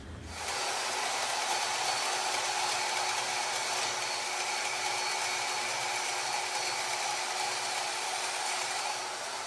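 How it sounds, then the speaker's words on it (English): A power tool cuts small leaf gussets from 1/8 inch scrap steel, giving a steady, loud, continuous whining hiss that runs unbroken for the whole stretch. "now I'm gonna just cut some little leaf gussets out of this 1/8 inch pieces of scrap for all 5 locations."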